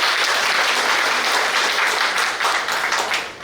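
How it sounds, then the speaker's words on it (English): A Women's Day celebration audience at KMC Mangalore breaks into loud, sustained applause, a dense crowd of clapping hands that fills the room and holds steady before easing slightly near the end. "she definitely deserves a big round of applause"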